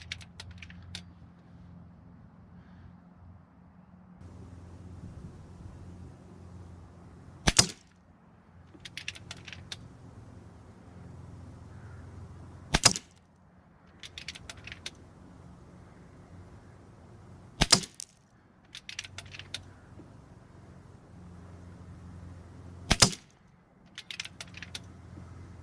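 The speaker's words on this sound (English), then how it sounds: "Okay, 5 shots at 34 meters." An FX DRS Tactical air rifle with HUMA-Air upgrades fires shots at a 34-meter target, sharp isolated cracks spaced about five seconds apart, each followed by faint metallic clicks of the action over a quiet hum.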